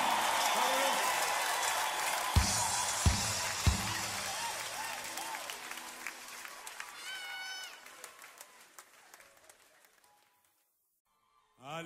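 Congregation at a live worship concert in Paris cheering and applauding, a loud crowd roar with clapping and a few sharp thuds that gradually fades to near silence before a sudden return at the end.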